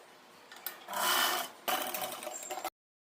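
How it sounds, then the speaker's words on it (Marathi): A sewing machine stitches the shoulder seam of a designer blouse in two quick close bursts, the motor whirring up, pausing briefly, then running again before stopping abruptly into silence. "तेवढ्याच अंतरावर इकडे पण शिलाई मारून घ्यायची"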